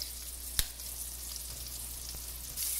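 Shrimp frying in a hot pan for Cajun shrimp and grits, giving a steady, close hiss and sizzle with a few soft pops and stirring clicks and no voices.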